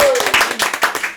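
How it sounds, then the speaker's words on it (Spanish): Brief close burst of a few people clapping hands in quick uneven slaps, mixed with talking and laughter in a home setting. "¡Aplauso de trapo!"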